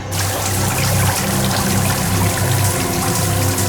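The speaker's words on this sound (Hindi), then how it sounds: "सर, सबमरीन में दरार आ गई सर। पानी तेजी से नीचे आ रहा है।" Water pours and trickles steadily into a cracked submarine, a loud continuous rushing and dribbling wash with a low rumble beneath, with no voices.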